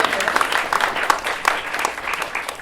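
At a dialogue event with a new executive director, an audience breaks into brief, fairly close applause with distinct individual claps audible in a short burst.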